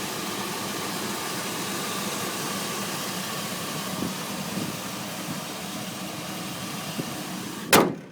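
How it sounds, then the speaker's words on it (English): The engine of a 2002 Chevrolet Silverado 2500 4x4 idles quietly with a steady, even drone, close by, ending in a short loud knock near the end. "I'll let you listen to the motor real quick. Super quiet."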